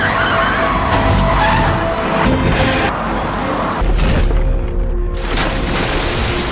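A car whose brakes have failed skids and crashes on a bend: loud tire screeching and scraping over a rumbling engine, then a heavy thud and a clattering impact.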